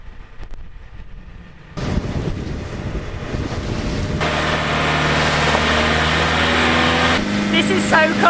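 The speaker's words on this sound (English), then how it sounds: "I can't believe we're out on a fishing boat going to head to some islands." A fishing boat engine drones steadily at sea off Koh Chang, Thailand, under heavy wind buffeting the microphone, with waves washing around the hull; loud and close throughout.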